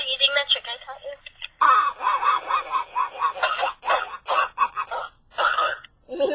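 A person imitates a duck, voicing a run of rapid nasal quacks in choppy bursts with short pauses between them, close and loud, with no other sounds around.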